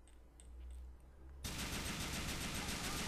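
Sudden sustained automatic gunfire in Grand Theft Auto 4, a rapid continuous burst of shots that begins abruptly after a quiet stretch and fills the rest of the moment, loud and close.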